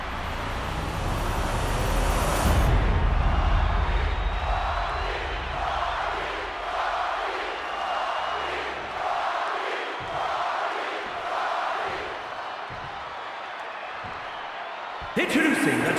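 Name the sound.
roaring wrestling arena crowd, from video game WWE 2K26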